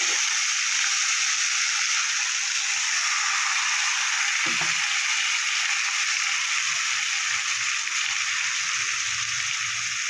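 Kohlrabi fries lightly in oil in a pan, giving a steady, even hiss that stays close and constant throughout, with a faint clink partway through.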